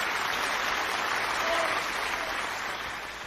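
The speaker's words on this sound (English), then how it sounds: "I'm going to give Vero a big round of applause for saying languages" An audience gives a big round of applause, dense sustained clapping that fills the room and fades slightly toward the end.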